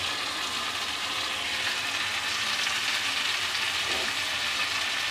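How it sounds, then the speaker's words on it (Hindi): Spiced chicken with garam masala fries in a pan, a dense, even, close-up sizzling hiss that holds steady throughout with faint stirring underneath. "इसको अच्छे से भूनना है"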